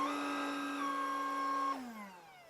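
A vacuum cleaner with a water feed runs with a steady, high whining motor tone, then audibly winds down and drops in pitch as the motor slows near the end.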